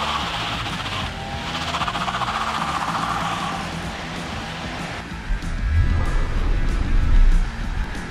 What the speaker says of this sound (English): I really do like that sound of that engine roaring.